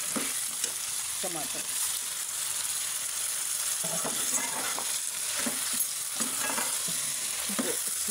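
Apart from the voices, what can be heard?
frying in a pan for chicken biryani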